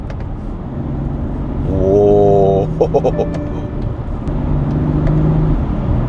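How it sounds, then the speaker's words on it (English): A BMW X4 engine revs hard under acceleration, loud and close from inside the car, climbing in pitch before dropping with quick paddle-shift changes. A voice briefly exclaims over it. "let's have some fun in the BMW. Let's push the car a little bit"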